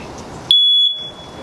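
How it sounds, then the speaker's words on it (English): A 10-year battery smoke alarm emits one loud, piercing, steady beep lasting about half a second as its test button is held down, then falls quiet apart from a faint room hum. "hold the test button down and make sure it beeps,"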